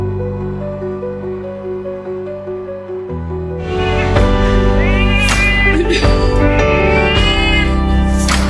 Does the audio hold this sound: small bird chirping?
no